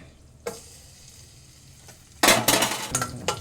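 Almonds and a date, with cloves and cardamom, frying in ghee for aval payasam. A quiet start gives way to a loud, close sizzle and scraping stirs in the last second and a half, with no talk.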